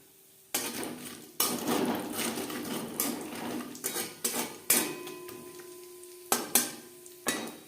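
Whole spices are stirred in hot ghee in a pan, a metal spoon clinking and scraping against it in several sharp, close strokes, with a faint sizzle and no talking.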